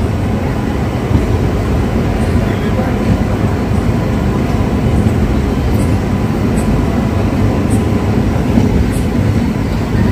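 The Haripriya Express pulls away from Erragonda station with a loud, continuous rumble of rolling wheels and carriages that holds steady throughout, with faint high squeals above it.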